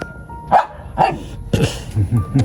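Several dogs barking in short, uneven bursts, some sharp and some deeper, fairly close, with no one talking.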